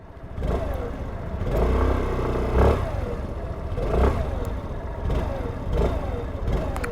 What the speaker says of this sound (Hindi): आवाज़ सुनो स्कूटर की सबसे पहले, आई होप आपको आवाज़ आए।